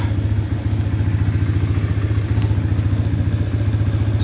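A farm motorbike with a centrifugal clutch idles cold in a steady, close, loud low chug, with even pulses throughout and no voices.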